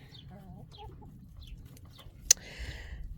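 A broody hen gives soft, scattered clucks and murmurs close by over a quiet background, broken by one sharp click near the middle.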